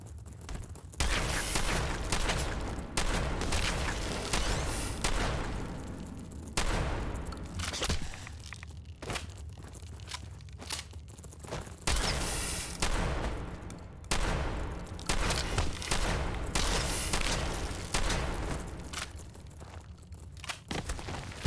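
Rapid, loud bursts of combat shotgun fire in Fallout 4, heavily modded for desolation survival, with repeated blasts and booming impacts in quick clusters across a long, continuous firefight.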